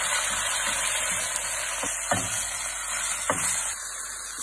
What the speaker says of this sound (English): Beef stripes in the pan.